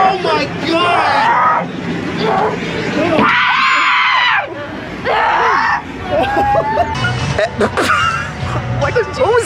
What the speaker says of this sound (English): It was a scream.